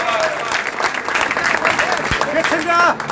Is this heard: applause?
yes